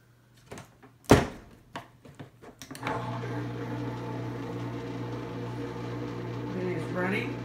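A few clicks and a thunk, then an apartment dishwasher starts up with a steady humming whir that keeps running.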